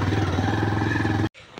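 A motorbike engine idles close by in a steady, pulsing putter, loud and continuous, then cuts off suddenly, leaving faint rain-soaked background noise.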